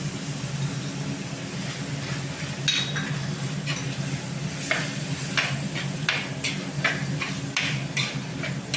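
Crab curry masala stirred in a pan after salt goes in, scattered soft scrapes and clicks of a spoon over a steady low background hum, with no talk.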